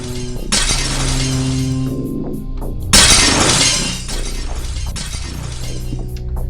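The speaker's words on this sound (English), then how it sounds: "the players will be prompted to use this block to break down the glass wall" Glass wall in a video game factory shattering as a block smashes into it, with two loud crashing bursts of breaking glass followed by tinkling debris.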